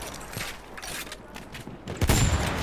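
Rapid gunfire crackles in a Battlefield 1 battle in the Argonne Forest, a steady loud volley with a heavier blast near the end.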